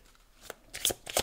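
Amanti tarot cards being shuffled by hand, a brief run of soft riffling and slapping card sounds, fairly quiet and close, with no talking over them.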